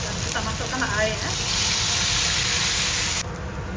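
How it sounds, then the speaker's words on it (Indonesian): Eggplant and fish curry sizzles loudly in a hot pan as it fries. The hiss is steady and close, with a faint crackle, and it drops abruptly near the end. "Goreng sampai naik wangi ya"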